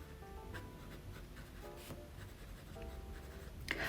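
A fountain pen with a stub nib scratches across paper in short, soft strokes with brief pauses, quiet and close against faint background noise, ending in a slightly louder scrape.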